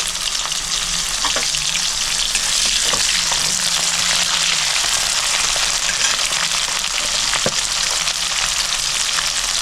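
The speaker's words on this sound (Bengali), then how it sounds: "তেলটা গরম হয়ে গেছে, আমি উস্তেগুলো ভেজে নেব হালকা লাল করে।" Pieces of bitter gourd fry in hot white oil in a wok. A loud, steady hiss of sizzling runs throughout, broken by a few faint clicks from stirring.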